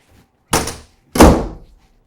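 Two heavy household doors slammed shut one after another, each a loud thudding bang with a short rattling decay, the second harder than the first, with no voices.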